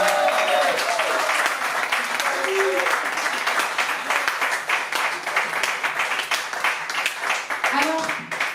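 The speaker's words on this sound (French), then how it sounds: "Je vous demande un tonnerre d'applaudissements, s'il vous plaît, pour Christophe." A concert crowd claps in a thick, continuous burst of applause, steady and loud, with brief vocal sounds breaking through near the start and end.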